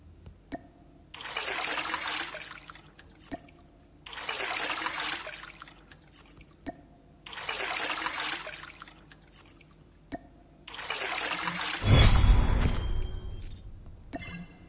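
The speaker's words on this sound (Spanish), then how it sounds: "seguimos bombeando agüita" Water being pumped, heard as four regular surges of gushing and splashing separated by quiet pauses, the last one heavier with a deep churning rush.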